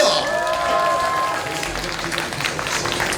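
A crowd at a Disco Pang Pang ride claps and cheers, with a busy spread of hands clapping mixed with shouts and music-like tones, moderately loud throughout.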